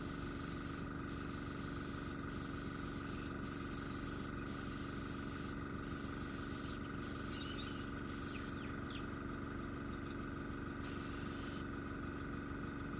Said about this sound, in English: So I've given her a bit of a mist coat.